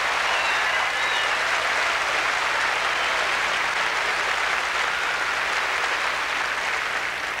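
Steady, loud audience applause at the 1979 Miss USA beauty pageant, a dense wash of many hands clapping continuously with no talk over it.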